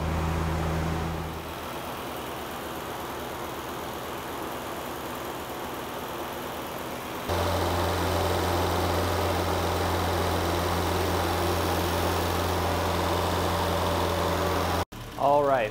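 Turbocharged A-Series engine idling while warming up, a steady mechanical drone that jumps to a louder, fuller idle partway through, ending in a brief clunk.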